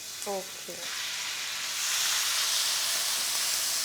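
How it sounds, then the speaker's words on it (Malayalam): Marinated chicken cubes seasoned with salt, lemon juice and pepper hit a hot pan, and a loud sizzle swells and holds steady after a brief voice at the start. "ചെറുതായിട്ട് അരിഞ്ഞു വെച്ചേക്കുന്ന ക്യൂബ്സ് ചിക്കൻ ഞാൻ ഇതിനകത്തോട്ട് ഇടുകയാണ്."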